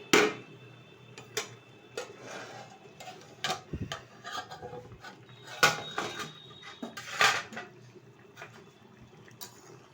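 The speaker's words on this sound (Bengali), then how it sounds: "ঢাকনাটা তুলে দিচ্ছি" A metal lid comes off a pot of cauliflower, potato and bhetki fish roe curry, giving light clinks and clatters of cookware in a quiet kitchen with a faint background hum and no talking.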